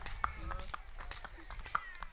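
A white horse walks along a rural road in Barangay Trigos, its hooves clip-clopping in a steady, moderately close rhythm while someone talks over it.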